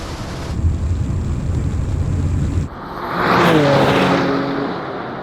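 A BMW M2 and a BMW XM launch side by side in a drag race, with a steady engine drone that cuts off and then a rising, sweeping roar of acceleration heard from close by. No one speaks.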